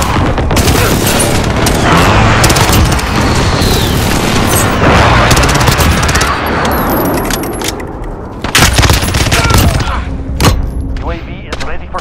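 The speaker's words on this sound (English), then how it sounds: "Allied precision airstrike incoming." Booming airstrike explosions and gunfire rumble continuously in a Call of Duty: Modern Warfare battle, loud and dense, with a burst of heavier blasts near the end and radio voices faintly underneath.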